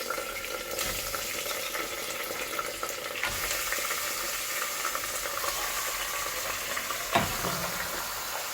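Beef and curry leaves sizzle in oil inside a pressure cooker, a steady, dense frying hiss running throughout with occasional stirring clinks, close and moderately loud, no voices.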